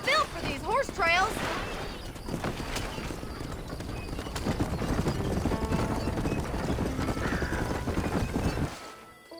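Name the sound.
horse-drawn wagon on horse trails in Red Dead Redemption video game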